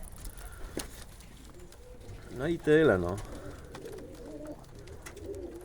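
Pigeons coo at a busy pigeon market in Zgierz, a short burst of bird calls rising midway over crowd murmur and street noise, with someone speaking briefly.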